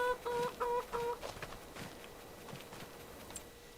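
Chickens and a rooster in the game Farming Simulator 25 cluck close by in a short run of tonal clucks, then softer scattered farmyard noises.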